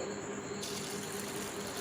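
Fresh water gushes steadily into a pressure cooker holding chana dal for washing, a continuous pouring rush that runs the whole time with no talking.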